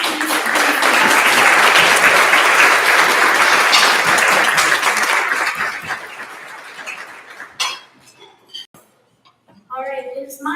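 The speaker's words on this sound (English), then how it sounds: "let's give one more round of applause to our students" Guests at an annual gala give sustained, loud applause that tapers off after about seven seconds, followed by a few scattered claps, clinking and a speaking voice.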